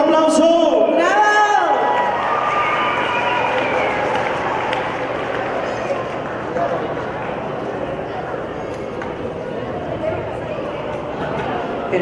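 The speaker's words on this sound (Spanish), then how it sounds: "Recibámonos con un fuerte aplauso. ¡Venga el aplauso!" Carnival crowd applauding a child contestant, a dense sustained wash of clapping and cheering; a loud announcer's voice opens it before the crowd noise carries on.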